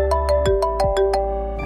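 A mobile phone ringtone plays loud and close, a quick run of bright, evenly spaced electronic beeps in a domestic comedy scene.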